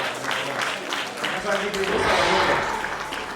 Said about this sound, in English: give her a round of applause as she comes to speak